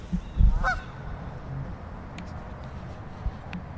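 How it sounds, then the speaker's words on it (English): A single goose honks nearby, a short loud call near the start, followed by quiet outdoor background with a few faint distant calls. "You hear that goose? That goose definitely agrees with me."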